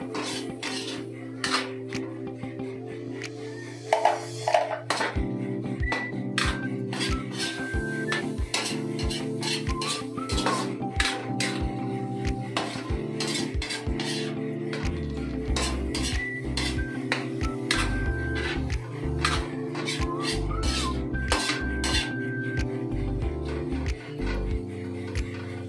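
Mushrooms cook in a pan for homemade carbonara, with a spoon or spatula repeatedly scraping and clinking against the metal pan over a low sizzling bed throughout.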